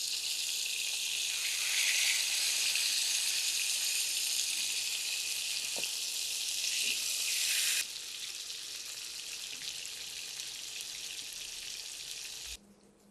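Fish pieces fry in a pan just after being flipped, giving a steady, loud sizzle for several seconds. The sizzle then drops to a quieter hiss and ends with a brief clatter.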